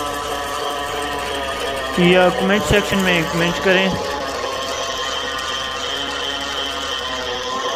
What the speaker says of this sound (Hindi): तो आप देख रहे हैं कि कितनी स्पीड से ये मशीन चल रही है।